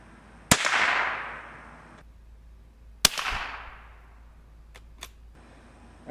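Two sharp .22 LR gunshots from CCI Small Game Bullet rounds, about two and a half seconds apart, each a crisp crack followed by a brief ringing decay outdoors, then a fainter click or tap afterward.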